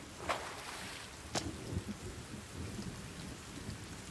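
Steady rain pours down in the survival game The Forest, with two sharp cracks of thunder breaking through the constant hiss.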